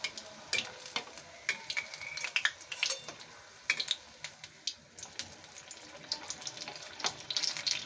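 Shapla (water lily) stem fritters frying in oil over a low flame, with a steady bubbling hiss broken by frequent sharp crackles and pops that come and go throughout, close and fairly quiet, with no talking.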